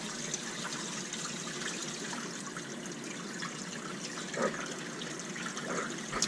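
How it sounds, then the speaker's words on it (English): Water running from a Fluval 406 aquarium canister filter outlet, a steady soft trickling and gushing stream heard close up with a brief louder splash near the end, no voices. "There you can see the water coming out now."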